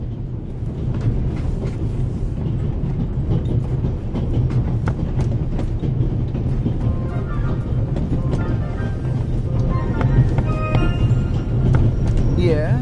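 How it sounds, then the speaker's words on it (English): A train on the Orient Express in the video game The Raven Remastered rattles continuously on its rails, a loud steady rumble with clicking clatter that runs under characters speaking. "The noise on this train is driving me crazy."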